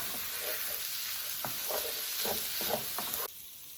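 Spicy sausage browns in a pan with a steady, soft sizzle, broken by a few stirring scrapes, before the sound drops off abruptly near the end.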